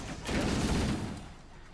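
A grenade explodes in Halo: Combat Evolved with a single loud, broad burst that swells quickly and then fades into a rumbling tail over a couple of seconds.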